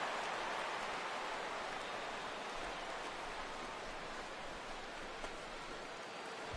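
Steady rain during a baseball game in MLB The Show 17, an even hissing wash of falling water that stays moderately quiet and unchanging throughout, with no talking.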